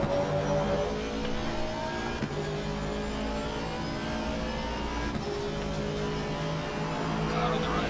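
Engines of a BMW and an Aston Martin race car in a racing video game drone loudly and continuously, with steady revving and tyres under the race.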